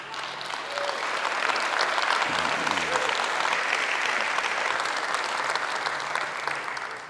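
A church congregation breaks into sustained applause, steady and dense for several seconds, filling the room evenly with no pause.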